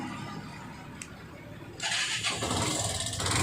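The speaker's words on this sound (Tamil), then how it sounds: "இப்போ வந்து வண்டியை வந்து ஸ்டார்ட் பண்ணி பார்க்கலாம்." A Yamaha FZ motorcycle fresh from a self-starter motor repair cranks briefly, then its engine catches and runs with a rough, loud rumble up close.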